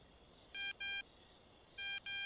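Telephone keypad tones in the video game Thief Simulator sound as four short electronic beeps in two pairs, clean and fairly quiet over a low hiss.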